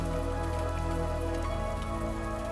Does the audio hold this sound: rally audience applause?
no